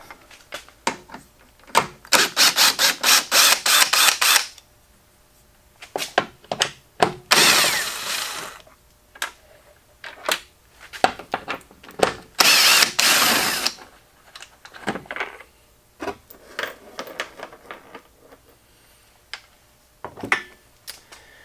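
Bolts on a Jeep Gladiator headlight being worked loose with a 10mm socket ratchet: bursts of rapid clicking ratchet strokes, close and fairly loud, separated by pauses and scattered knocks of tools and parts.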